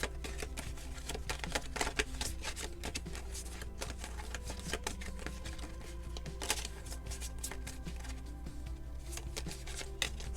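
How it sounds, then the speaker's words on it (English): Tarot cards being shuffled by hand during a card reading, a long run of dense crisp flicks and riffles, close and fairly quiet, with no talking. "let's shuffle them and see what comes out here."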